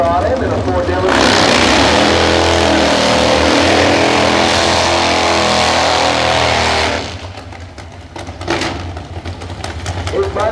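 At a 2003 drag meeting at Perth Motorplex, a Harley Davidson drag bike and a Ford launch together in a loud, sustained roar that holds for several seconds, then drops away into fainter engine noise.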